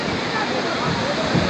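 Water released from dam gates roars in a dense, continuous rush that fills the whole clip, loud and close with no break.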